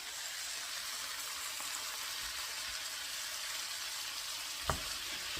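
Spice paste fries steadily in a pan for a fish head curry, giving an even close sizzle throughout with a single sharp clink near the end.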